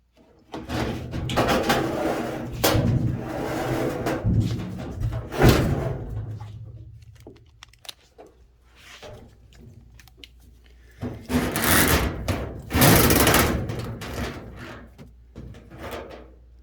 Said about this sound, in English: I'm going to slide the washer towards the wall